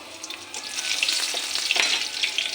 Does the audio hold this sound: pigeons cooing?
no